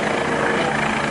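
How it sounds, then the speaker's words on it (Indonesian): A police helicopter's steady, loud whirring drone fills the short stretch without any change in pitch or level. "ini ada helikopter Pak Polisi"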